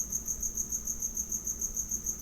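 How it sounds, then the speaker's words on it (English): Crickets chirp outside in a steady, rapid pulsing trill that repeats evenly and stays at a moderate level throughout, with no voices. "What are you up to while listening to those crickets?"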